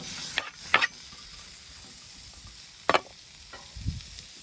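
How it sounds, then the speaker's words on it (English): Onions sizzle in a little avocado oil on a hot griddle over a live fire, a soft steady hiss broken by a few sharp scraping stirs of a spatula, close and quiet with no talk. "start cooking those onions"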